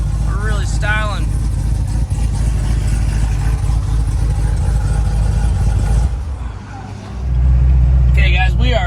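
Engine of a black Chevrolet Corvette C7 Z06 tuned to about 900 wheel horsepower, driving with a loud steady low drone, easing off briefly near the end before swelling again, with voices talking over it.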